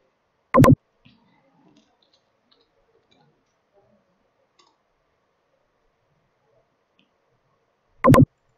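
Two sharp computer mouse clicks, one near the start and one near the end, separated by near silence with only tiny faint ticks between them.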